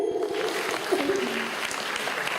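Audience applause at a season-opening concert of a Moscow Tatar cultural centre, continuous clapping throughout the short moment with a voice speaking over it.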